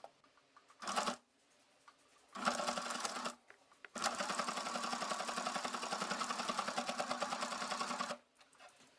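A sewing machine fitted with a gathering and pleating foot runs in short bursts and then a long steady stitching run, with rapid mechanical clatter close by and no talking.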